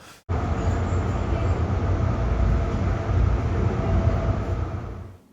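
A metro train rolls past, a sustained broadband rumble that starts abruptly and holds steady and fairly loud for several seconds before easing off at the end, with no voices.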